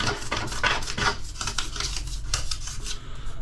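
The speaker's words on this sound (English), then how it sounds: "I should use a plastic scraper." A plastic scraper scrapes a shower drain during a DIY bathroom job, making short, rapid, repeated rasping strokes up close with a gritty scratching texture and no voices.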